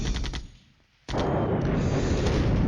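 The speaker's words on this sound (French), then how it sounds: "Notre artillerie les frappe allègrement." Artillery fire in the Cold War strategy game Flashpoint Campaigns: Cold War, a loud rumbling barrage that fades briefly, then bursts back in with a sharp crack and continues as dense, sustained booming.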